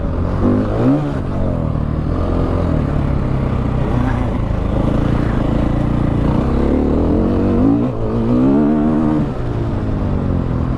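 A 2016 KTM 500 EXC dirt bike engine revs loud and close on a test ride, holding a steady throttle roar with rising and falling pitch sweeps and no talk over it.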